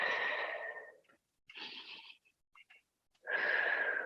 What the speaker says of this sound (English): So you're going to inhale and lift, exhale and release.